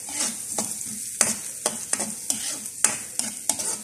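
Diced onions sizzle in melted butter in a pan while shrimp is being prepared, giving a steady crackling hiss broken by regular scraping stir strokes, close and moderately loud, with no talking.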